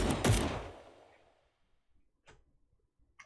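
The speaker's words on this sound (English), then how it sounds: "apparently his send email is a gunfire" A gunshot sound effect in the video game Wolfstride, used as an email send sound: one sharp, loud crack with a long fading tail, followed by a few faint soft clicks.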